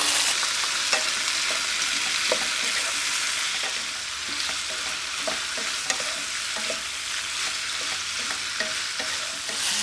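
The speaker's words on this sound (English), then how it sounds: "You just want to cook down the sauce just a little bit to coat the sausages." Breakfast sausages stir-fry in sauce in a pan, giving a steady close sizzle punctuated by light scrapes and clicks of stirring over ten seconds, with no talking.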